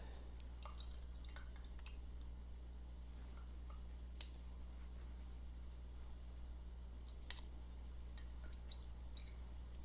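Aloe vera oil dripping as it is strained at home, small sparse drops falling at irregular intervals, faint against a steady low hum, with no talking.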